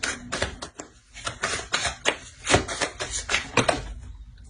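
Tarot cards are shuffled for a reading, a quick run of crisp riffling flicks and taps in uneven bursts, close and fairly loud, with no speech.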